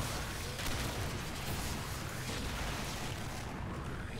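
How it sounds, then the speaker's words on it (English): Explosions in the video game Warframe pile up into a dense, loud, continuous roar of overlapping blasts and rumble. "A lot of explosions going on there."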